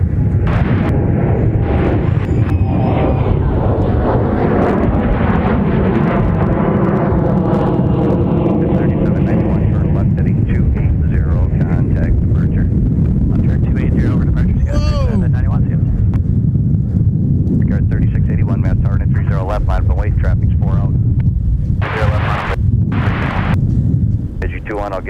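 An Embraer 175 LR jet departs runway 30 left at Minneapolis–St. Paul airport in gusty wind, its loud roar swelling and sustaining for the whole stretch while air traffic control radio chatter runs underneath.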